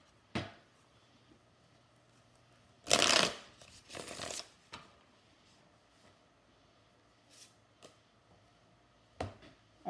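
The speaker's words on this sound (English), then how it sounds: "And I'm going to pull one more card on that." Tarot cards being shuffled in short bursts, a crisp riffling flurry followed by a couple of quieter shuffles and light card taps, with long near-silent gaps between.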